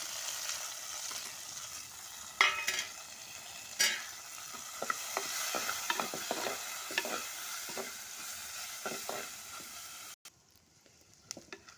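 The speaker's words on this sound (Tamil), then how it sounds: "இப்போ இந்த வத்தல்லாம் போட்டு வதக்கிக்குவோம்" Sun-dried vathal and shallots sauté in a pan with a steady, quiet sizzle, broken by frequent scraping stirs of a spoon against the pan. The frying fades out near the end.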